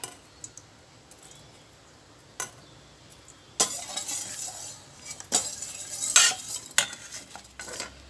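Flour being stirred into coconut milk until it dissolves for steamed tilapia curry: quiet intermittent clicks at first, then louder scraping and clinking of a utensil against the bowl, close and irregular.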